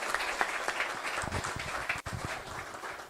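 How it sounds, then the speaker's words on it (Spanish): Applause at a progressive forum with many hands clapping in a continuous, dense patter that stays fairly loud for a few seconds, with a brief dip near the end. "Otra vez les pido un aplauso"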